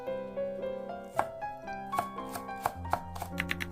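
Knife slicing halved green onion (daepa) thinly on a cutting board, a string of crisp, close chops with uneven spacing over soft background music.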